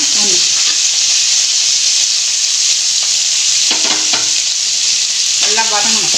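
Small onions sautéing in a pan for chow chow chutney, a steady broadband sizzle throughout with occasional scrapes and knocks of a stirring spoon, loud and close.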